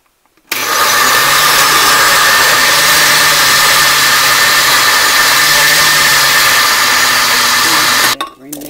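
A blender runs at medium speed chopping potatoes, a loud, steady whirring roar that starts abruptly, holds for about eight seconds and then cuts off.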